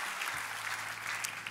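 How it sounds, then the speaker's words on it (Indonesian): A church congregation claps for Jesus, a soft, fairly distant wash of applause that holds steady through the moment with no distinct individual claps standing out. "Kita beri tepuk tangan mari meriah buat Yesus Tuhan kita"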